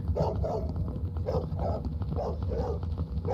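A dog in a video game, HeadHorse Legacy with a Backrooms mod, barks repeatedly in a steady rhythm of short, close woofs over a constant low background hum.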